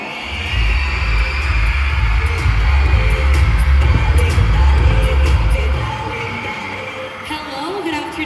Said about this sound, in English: Let's give another round of applause to candidate number 3